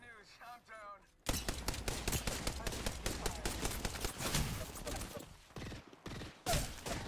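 Rapid video game gunfire crackles in dense automatic bursts, loud and close, during a looting firefight, with a brief stretch of voice chat before the shooting begins.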